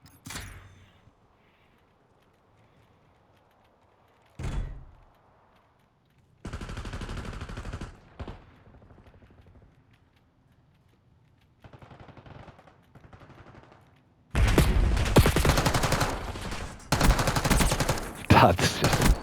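Gunfire in Call of Duty, with scattered single shots followed by sustained bursts of automatic fire that grow loud and dense toward the end, with some quiet gaps and faint talk in between.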